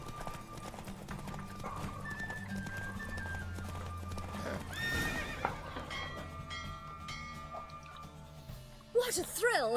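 Rhythmic hoofbeats of a galloping horse during a horse race in The Witcher 3: Wild Hunt, mixed with game music and effects, a horse whinnying near the end, voices talking over it.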